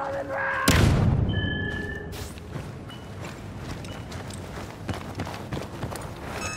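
A grenade detonates in Star Wars Battlefront II with a heavy, close boom early on, followed by rumbling debris, running footsteps and scattered shots while a voice calls out.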